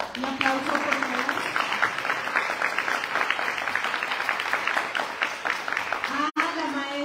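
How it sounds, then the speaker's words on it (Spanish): Audience applauds at a Spanish-language kindergarten materials handover ceremony in Jalpa, Zacatecas, steady moderate clapping lasting several seconds, with voices briefly at the start and end. "Un aplauso, por favor."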